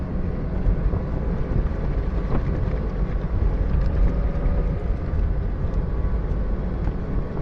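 A Porsche accelerating in a steady circle around a skid pad, its engine a continuous low rumble heard from inside the car, mixed with road and wind noise that stays even throughout.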